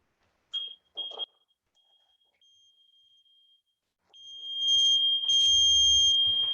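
A workout timer gives two short high beeps near the start and a faint thin tone. It then sounds a long, loud continuous beep with added bleeps, and low thumps run underneath.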